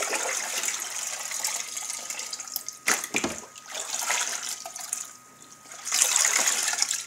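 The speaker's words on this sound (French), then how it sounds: "Et là, je le rince avec mon robinet." Running tap water splashes and trickles close up, with interruptions as a grooming box is rinsed of dish soap under the stream, then a fuller gush near the end.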